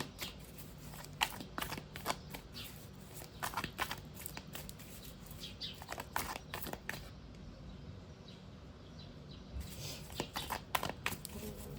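Tarot cards handled close by, with soft papery shuffling, flicks and snaps scattered irregularly over a quiet background, including a brief near-silent pause.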